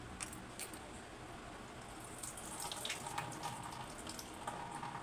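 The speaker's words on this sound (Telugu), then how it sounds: "కొన్ని వాటర్ ఉన్నాయి, ఇందులో వాటర్ తీసేద్దాం." Water is drained from soaked sago pearls, a faint trickle and splash with small clinks, close and quiet.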